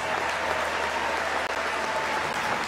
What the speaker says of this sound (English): a great round of applause for Novak for a great effort